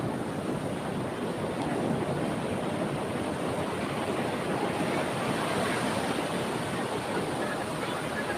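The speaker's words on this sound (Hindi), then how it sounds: "यहाँ पे ये लहरें कभी शांत नहीं होती, इनकी खास बात यही है।" Ocean waves break continuously on the shore by the Jagannath temple in Odisha, a steady, dense wash of surf that runs the whole time with no pauses and no voices.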